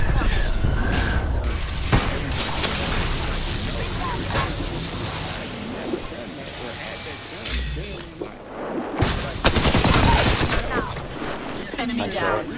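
Rapid gunfire bursts and thuds from Apex Legends combat, loud and dense, with booming impacts and a sharp burst near the end, under brief in-game voice callouts.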